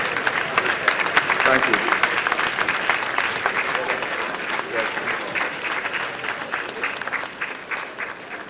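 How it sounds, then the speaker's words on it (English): Applause from a large audience fills the hall at a live memorial event, a dense sustained clapping that stays loud throughout, with a brief spoken thanks over it. "I think he deserves a bigger round of applause for a masterful presentation."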